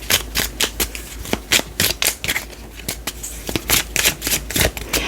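A tarot deck is shuffled by hand and a card is drawn, a close run of quick, irregular riffling flutters and soft slaps, loud and crisp with no voice over it.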